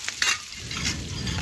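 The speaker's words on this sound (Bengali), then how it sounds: "এই দেখুন এভাবে নাড়াচাড়া করতে করতে পেঁয়াজের দেখুন সব আলাদা আলাদাভাবে খুলে গেল" Onions frying in a pan over a wood-fired clay stove, a loud close sizzle with scraping spatula strokes as they are stirred and separate.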